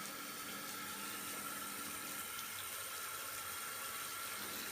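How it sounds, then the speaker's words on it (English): Tap water gushes into a bathtub with the drain closed, a steady, even rush of filling water that holds unchanged throughout with no voices. "We'll close the drain and turn on the water."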